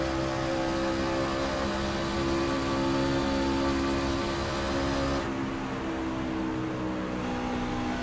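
Race truck engines drone together in a close pack during iRacing Camping World Trucks running at Auto Club, a steady, loud, sustained engine hum from start to finish with no talk.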